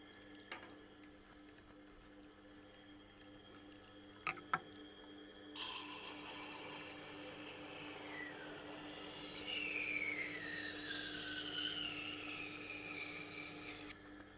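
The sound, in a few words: knife being sharpened on Tormek Blackstone wheel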